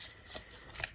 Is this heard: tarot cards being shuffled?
yes